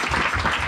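A church congregation claps and cheers in praise during a French-language service, a dense, continuous wash of applause filling the room for a brief moment.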